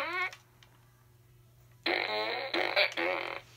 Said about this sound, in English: And you pull it, makes a fart sound